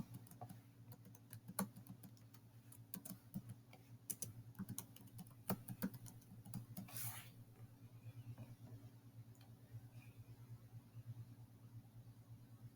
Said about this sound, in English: We have to type it in.